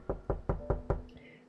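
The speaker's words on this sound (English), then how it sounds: "Concerned, I knock on the door again." Five evenly spaced knocks on a door in the game Love and Deepspace, close and distinct, each a sharp thud with a short decay, ending with a faint high chime.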